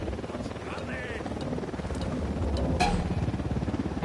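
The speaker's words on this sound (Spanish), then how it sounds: "Se acerca un helicóptero" A helicopter approaches in the video game Ghost Recon Wildlands, its rotor a loud, steady chopping throb that swells slightly toward the end.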